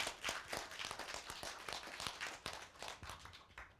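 A small audience claps in a lecture hall, a scattered, uneven run of individual claps at moderate distance, fairly faint.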